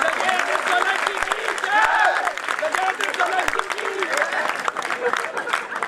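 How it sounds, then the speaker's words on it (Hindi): Audience applause for Gajendra Solanki at a Hindi poetry gathering, sustained crowd clapping with voices talking over it throughout. "आप सब एक बार जोरदार तालियां बजाएं गजेंद्र सोलंकी जी"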